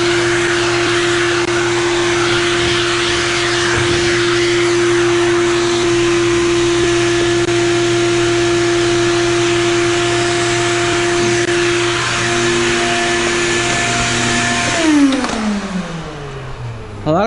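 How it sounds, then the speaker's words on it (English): Shop vacuum cleaning inside a 2015 Mini Cooper Hardtop during a windshield replacement, a loud steady droning whir with a strong tonal hum that runs continuously for about fifteen seconds before the motor winds down with a falling pitch. "So I'm gonna vacuum before we trim out."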